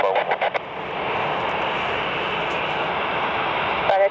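A US Air Force Boeing 737 (C-40C) lands at London Gatwick, giving a steady, fairly loud broadband jet roar that holds evenly throughout, with a few brief ticks near the start.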